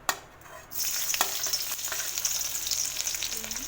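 Garlic, ginger, green chilies and onions dropped into hot oil, bursting into a loud, close, steady sizzle after a brief quiet start, with light stirring clatter.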